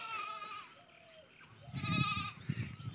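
Bleating from a village goat at a farmhouse where buffalo and cows are also kept, heard as a couple of nearby wavering cries with a rough, throaty low end, set against quiet morning outdoor ambience and no talk.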